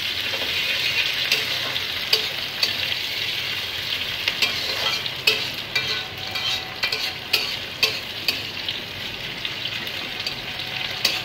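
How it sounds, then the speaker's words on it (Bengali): Onions frying in oil with garam masala and bay leaf, a steady close sizzle with occasional stirring clicks and scrapes running throughout, no voices. "এবার দেবো পেঁয়াজ দিয়ে দিলাম"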